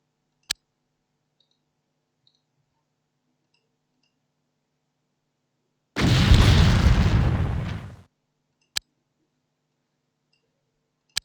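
Explosions in the video game X-Com Apocalypse: one loud roaring blast lasting about two seconds, bracketed by sharp isolated clicks before and after amid near silence.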